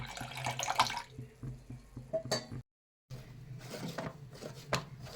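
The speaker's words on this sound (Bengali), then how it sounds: "এই কড়াইয়ের মধ্যে ক্ষীরটা বানানোর জন্য দুধ দিয়ে দিলাম" Milk poured into a wok for making kheer: short liquid splashes mixed with clinks and knocks of kitchenware, quiet and close, broken by a brief silent gap.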